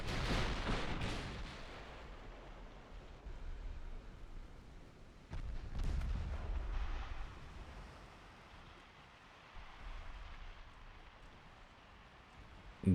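Warship guns firing at enemy destroyers in Ultimate Admiral Dreadnoughts, a 1913 French campaign, with a few deep booms standing out over a wash of sea and wind, moderately loud then fading.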